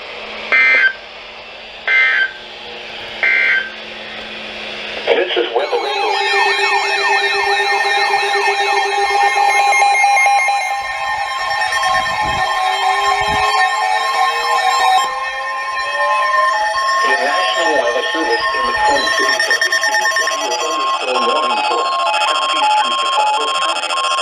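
EAS emergency alert for a severe thunderstorm in West Central Wisconsin: three short, loud attention-tone bursts, then a steady, sustained alert siren with overlapping wailing tones that drone on without a pause.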